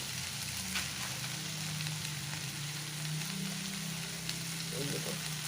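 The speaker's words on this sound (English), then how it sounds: "So now I'm putting in this masala." Masala and salt frying in a pan for a Mangalorean black chana and kundru stir fry, a steady close sizzle running throughout with faint stirring, no talk.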